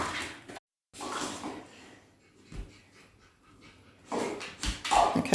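Joey, a Labrador, sniffing around the floor for leftover food, with short bursts of snuffling and panting close to the microphone, separated by quieter gaps and a few soft knocks.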